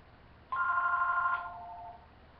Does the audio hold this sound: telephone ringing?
yes